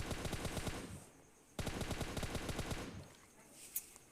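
Rapid automatic gunfire in PUBG Mobile on the Livik map, two loud sustained bursts of rattling shots separated by a short pause, followed by a faint click.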